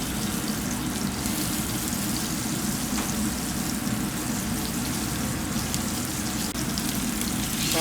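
Lamb chops searing in olive oil in a hot pan, a steady, dense sizzle that hisses evenly throughout without pause, close and moderately loud.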